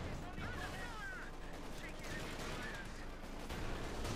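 Continuous battle noise from Company of Heroes 2 plays as dense gunfire and tank shots at a low level beneath the commentary.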